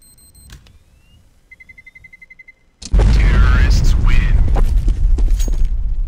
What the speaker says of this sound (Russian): Взрывается бомба.